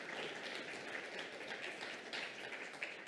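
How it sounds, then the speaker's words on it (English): A church congregation gives a round of applause for volunteers, a steady, fairly faint wash of many hands clapping, heard alone at a distance. "So give all those volunteers a key round of applause."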